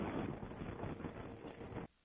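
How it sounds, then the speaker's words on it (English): A strong gust of wind buffets the microphone on a highway drive, a loud, continuous rumbling roar lasting nearly two seconds before cutting off abruptly. "Whoa, nice wind gust."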